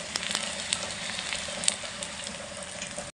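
Garlic and chillies fry in a pan with a steady, close sizzle and a faint crackle running throughout.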